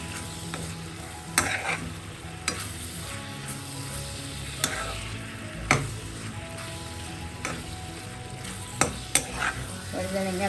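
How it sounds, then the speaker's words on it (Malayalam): Brinjal thoran, an eggplant stir-fry seasoned with added salt, stirred in a pan with a continuous sizzle and scattered sharp clicks and scrapes of a spoon on metal. "കൂടെ ചേർത്ത് നന്നായി ഇളക്കി കൊടുക്കാം."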